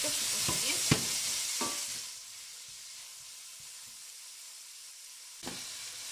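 Clams with artichokes and broad beans cook in a pan, giving a steady close sizzle with a few scraping stirs early on that soon settles into a quieter, even hiss.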